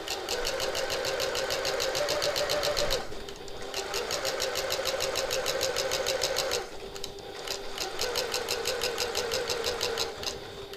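A home sewing machine runs stitching the seam of a reversible hobo bag, a fast steady mechanical whirr in long bursts with short pauses between runs, loud and close with no talking.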